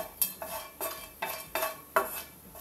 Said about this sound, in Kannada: 1 ಟೀ ಸ್ಪೂನ್ ಎಣ್ಣೆ ಸೇರಿಸಿ, ಇದು ಗರಂ ಮಸಾಲ ಅಂತ ತೆಕ್ಕೊಂಡಂತ ಚಕ್ಕೆ, ಲವಂಗ, ಕರಿಮೆಣಸು ಹಾಕಿ 2 ಸೆಕೆಂಡ್ ಫ್ರೈ ಮಾಡುವ